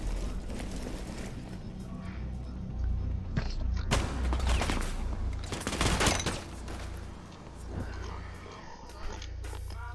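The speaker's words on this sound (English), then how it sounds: "Why was he using a shotgun?" Shotgun fire in a video game: a few heavy, booming blasts burst out over a busy game soundtrack, with voices talking alongside.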